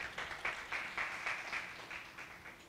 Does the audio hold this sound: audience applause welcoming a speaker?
yes